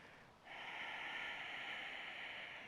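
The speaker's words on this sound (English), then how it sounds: "Incorporating Ujjayi, slight constriction in the back of the throat" Ujjayi yoga breath drawn with a slight constriction at the back of the throat during a low lunge: one steady, hissing, ocean-like breath that starts after a brief pause and holds evenly, close and fairly quiet, with no voice.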